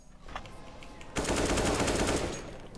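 Rapid automatic gunfire in Counter-Strike, a few isolated shots followed by a loud sustained burst of rattling fire filling the latter half, close and prominent.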